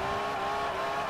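Lamborghini Countach tuned as a drift car in Forza 4, a brief, steady, loud engine drone with a strong held tone, heard close and alone.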